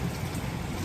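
Rain falls steadily in Patna, India, a dense continuous hiss of drops on surfaces, close and fairly loud with no pauses.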